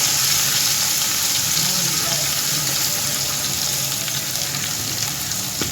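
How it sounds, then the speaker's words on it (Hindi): Constant loud sizzling of garlic and ginger frying in hot oil, a dense crackling hiss that continues without pause, close by. "इसे हम थोड़ा सा फ्राई कर लेंगे जब इसकी खुशबू आए"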